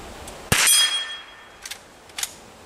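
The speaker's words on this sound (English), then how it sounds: "Alright, here's a full size round here." A Henry H001 .22 rifle fires a single full-size round with one sharp, loud crack and a ringing metallic tail, followed by two softer mechanical clicks.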